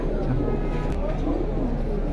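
Pair of Chita-breed pigeons from a racing line cooing up close, soft low coos rolling steadily under someone talking throughout.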